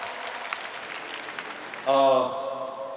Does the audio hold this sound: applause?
yes